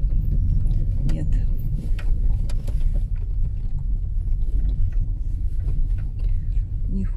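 A car rolls along a badly potholed street, Sovetskaya towards Elemesova, with a constant low rumble and scattered thumps and knocks from the rough surface, heard from inside the car with people talking.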